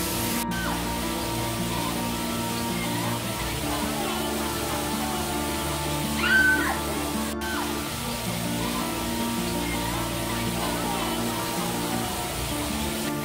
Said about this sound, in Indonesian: Suara gemericik airnya membawa kita ke suasana pedesaan yang menenangkan.